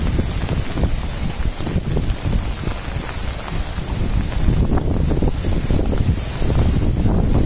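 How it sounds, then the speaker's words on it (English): Intense Typhoon In-Fa wind roars over Shanghai in a loud, steady rush with constant buffeting against the microphone, heavy and unbroken throughout. "as you can see, the wind is very, very intense"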